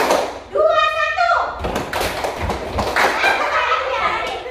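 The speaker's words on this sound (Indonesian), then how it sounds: "Itu makasih tepuk tangan kita semua." Children clap their hands in a short burst of sharp, rapid thuds and taps, loud and close, mixed with kids' voices and a tone sliding at the start.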